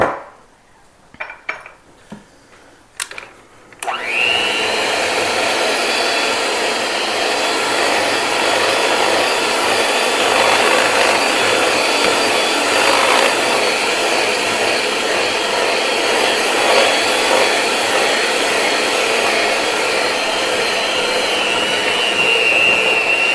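An electric mixer whirs steadily through chocolate cake batter, loud and close, starting after a few seconds of clattering and running without pause to the end.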